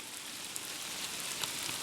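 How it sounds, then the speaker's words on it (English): Steady rain falls in a wet, forested national park setting, a dense, even hiss of drops with a few sharper taps landing nearby, no voices. "it's raining, so I'll probably get raindrops on the lens"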